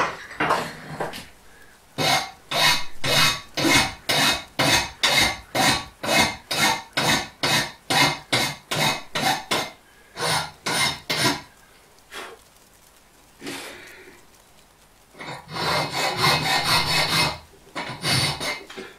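Metal hand file working the sides of a badly mushroomed block nut, a steady run of about twenty rhythmic rasping strokes up close, then a pause, a few scattered scrapes, and a denser burst of filing near the end.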